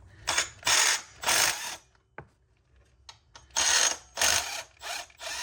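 Ratcheting bursts while a belt tensioner goes onto a GM truck: several loud, rapid clicking runs with a short quiet gap and a few light metallic taps in the middle, close up with no talking.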